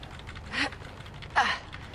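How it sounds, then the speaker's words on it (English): Two brief bursts of computer keyboard typing, each a quick cluster of clicks a little under a second apart, fairly faint over a low background hum with no talking. "Oh, the keyboard sound"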